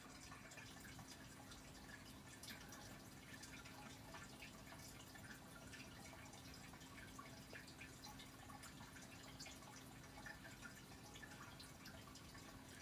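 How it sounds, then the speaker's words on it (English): Steady background water noise from a home fish tank, a continuous soft trickling and dripping that runs unbroken and fairly faint throughout, with no talking over it. "the noise in the background is my fish tank"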